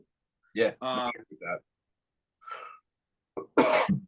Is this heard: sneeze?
yes